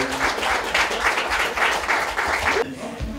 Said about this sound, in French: Une bonne main d'applaudissements pour vous inviter,